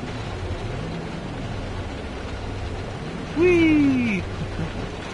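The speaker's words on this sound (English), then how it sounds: "It's raining or something here." Rain falls in the video game No Man's Sky as a steady, soft hiss that fills the whole stretch, with a short falling electronic tone cutting in loudly near the end.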